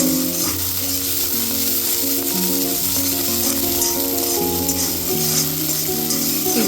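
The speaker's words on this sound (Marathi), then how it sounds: "थोड्याशा तेलावरती तो असा छान परतून घ्यायचा" Green peas sautéing in a little oil in a pan while making a potato sandwich filling, a continuous close sizzle with soft stirring, no talk.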